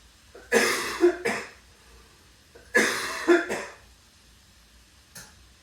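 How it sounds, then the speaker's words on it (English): A toddler coughs in two clusters of two or three harsh coughs each, close by, followed by one faint cough, with quiet between. "Toddler cough."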